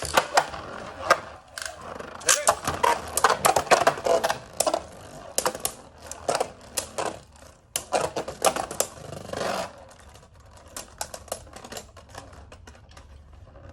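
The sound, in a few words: Beyblade spinning tops launched and battling in stadium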